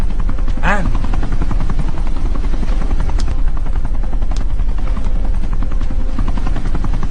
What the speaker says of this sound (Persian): این هلیکوپتر مستقیم تو رو میبره به محل پرواز هواپیما.